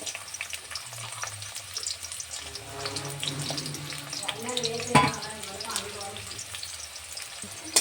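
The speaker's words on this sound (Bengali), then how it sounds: "তেল গরম হয়ে এখন একটা পেঁয়াজ কুচি দিয়ে দিচ্ছি।" Chopped onion hisses and sizzles in hot oil at the start of a prawn malai curry, a soft steady crackle under intermittent speech, with occasional stirring clatter.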